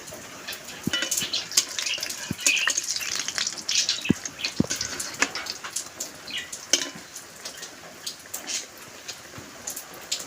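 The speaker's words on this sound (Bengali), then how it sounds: "তাই কাঁঠালের বড়াগুলো তাড়াতাড়ি আমাদের ভাজতে হবে।" Jackfruit fritters (kathaler bora) frying in hot oil, a steady close crackling sizzle with scattered sharp pops throughout.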